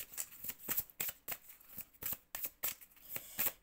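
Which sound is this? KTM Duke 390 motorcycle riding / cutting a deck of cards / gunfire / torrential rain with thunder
cutting a deck of cards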